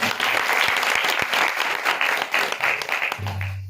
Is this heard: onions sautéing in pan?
no